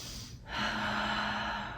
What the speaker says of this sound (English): Breathing nice and deep.